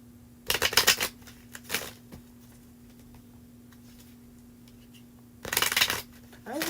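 A tarot card deck is shuffled by hand in two close, crisp bursts of riffling, one near the start and another near the end, separated by a quiet pause with a faint steady hum.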